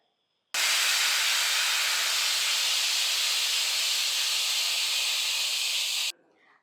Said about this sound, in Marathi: कुकरच्या तीन शिट्ट्या झालेल्या आहेत